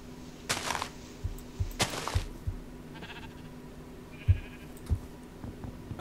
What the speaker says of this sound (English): Okay, there's a sheep.